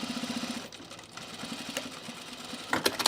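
A sewing machine stitching a hoodie seam, a fast rhythmic mechanical whir that pauses briefly and then resumes in a shorter burst, near and fairly quiet, with no speech.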